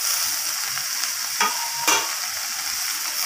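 Cut eggplant fries with salt and other vegetables in a pan for a mixed-vegetable curry, hissing steadily and loudly up close, broken by two brief scraping stirs.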